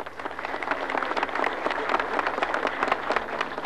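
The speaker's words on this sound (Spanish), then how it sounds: "Un fuerte aplauso," Audience applause at an irrigation canal handover ceremony in Cochabamba, a steady dense clapping from a crowd lasting several seconds without a break.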